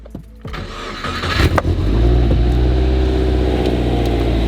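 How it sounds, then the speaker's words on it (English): A Subaru WRX idles loudly and steadily after starting, its deep engine drone holding constant with no voices over it. "We'll let you warm up, you cute little WRX."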